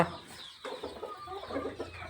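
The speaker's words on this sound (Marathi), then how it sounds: "या पोल्ट्री फार्ममध्ये जवळपास शंभर ते दीडशे गावरान कोंबड्या सध्या आहेत" Country gavran hens at a small poultry farm cluck softly in short, scattered calls, faint and close-ish over a low background, with no talk.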